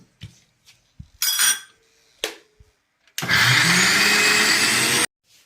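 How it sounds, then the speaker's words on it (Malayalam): A mixer grinder grinds grated coconut with turmeric powder and little water for a Kerala red spinach stir-fry. A few short pulses and clinks lead into a loud, close, sustained whirring roar of about two seconds that cuts off abruptly. "അതിന് പാകത്തിനുള്ള ശകലം മഞ്ഞൾ പൊടിയും കൂടെ അതിലിട്ട് അരക്കാൻ പോവുക."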